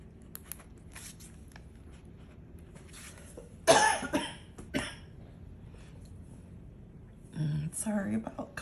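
A sudden burst of harsh coughing, then another short cough and a later cough fit, over a quiet room with faint rustling.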